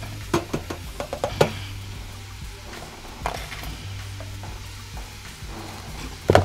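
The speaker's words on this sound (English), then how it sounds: "I'm gonna add my andouille sausage." Andouille sausage added to a pot for red beans and rice: a low steady sizzle runs underneath scattered knocks and scrapes of a utensil against the pot, with louder clunks at the start and end.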